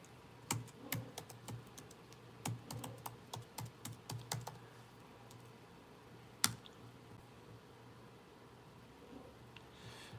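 Keys on a computer keyboard are typed in quick bursts of crisp, close clicks, then pause, followed by a single sharper tap and quiet room tone.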